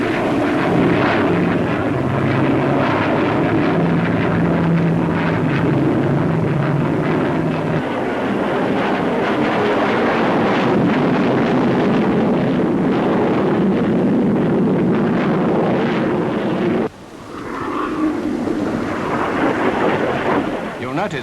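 A Javelin jet aircraft flies at the Farnborough air show of the 1950s: a loud, continuous roaring rush that holds for about seventeen seconds, then abruptly drops to a thinner, slightly quieter roar.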